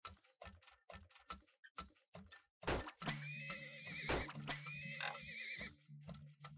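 Horse neighing in the oil-drilling video game Turmoil, a loud whinny rising over clip-clop hooves and mechanical ratcheting game sounds, preceded by a series of short sharp clicks.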